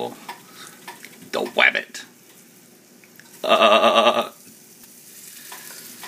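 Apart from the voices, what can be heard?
flour-dredged rabbit frying in frothing butter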